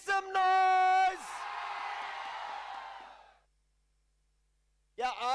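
A crowd at an esports grand final, the Mogo National Championship with LPU supporters, erupts in a loud roar and screams right after an announcer's voice, sustaining for about two seconds before fading to silence. Another voice starts at the end.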